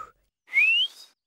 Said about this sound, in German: Für mich hat sich das nach Pfeifen angehört.